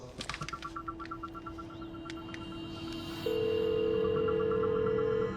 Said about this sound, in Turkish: E çalıyor işte.